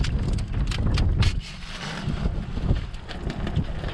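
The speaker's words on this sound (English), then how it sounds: "Get out of the wind again." Wind gusts buffet the microphone outdoors at a barbecue, a loud, continuous low rumble that swells and eases without pause, with no other clear sounds standing out.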